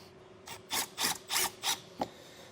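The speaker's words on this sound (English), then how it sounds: "putting a screw in each one of the holes" Five or six short, rasping bursts of a power tool driving screws into an RV roof, close by, each lasting a fraction of a second with brief pauses between.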